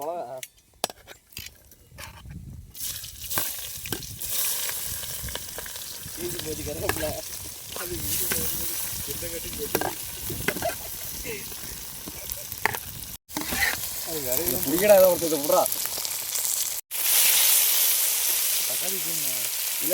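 Onions fry in oil in a pan over a wood fire, giving a sizzling, crackling sound broken by clattering utensils and stirring, while people talk nearby throughout.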